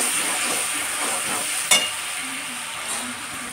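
Garlic sizzling in a hot frying pan for a home-cooked chicken dish, a steady bright hiss throughout with one sharp crackle midway, no talking.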